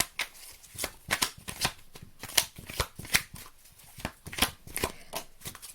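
Tarot or oracle cards shuffled by hand in a quiet room, a steady run of crisp riffling flicks and soft slaps coming close and clear, with no talk over them.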